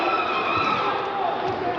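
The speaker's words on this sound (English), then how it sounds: "And that wakes the crowd up" A high school basketball crowd roars in a gym after a slam dunk, a steady wash of cheering and shouting voices that holds at an even level throughout.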